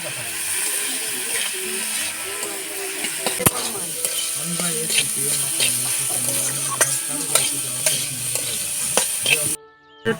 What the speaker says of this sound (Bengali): গাজরটা একটু ভেজে নেবো যাতে সিদ্ধটা হয়ে যায়